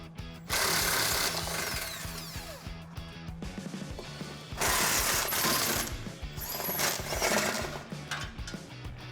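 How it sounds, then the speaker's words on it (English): A power ratchet tool buzzes in two long bursts, loud and close, backing out a pair of 13mm bolts on a 2015-2021 Ford F-150 5.0L exhaust system, with brief pauses between runs. "we're gonna go ahead and remove those two 13mm bolts next"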